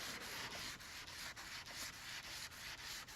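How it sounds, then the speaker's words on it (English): A 2000-grit sanding sponge rubs back and forth across a Les Paul guitar fret, giving a steady, close, raspy scrubbing with regular stroke-by-stroke dips in rhythm, no voices. "I'm going to take some 2000 grit sponge here and get these at an automotive store and just lightly rub back and forth on the fret"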